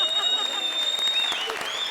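Audience applause on a TV comedy stage show follows a sung rap line, a bright dense patter of clapping running steadily with a tonal whine and some voices mixed in underneath.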